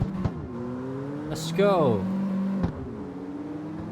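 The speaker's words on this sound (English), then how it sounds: "A bit of a wheel spin there." A race car in the CarX Street driving game spins its wheels off the line, the engine revving and rising in pitch with a brief squealing burst, while someone speaks briefly over it.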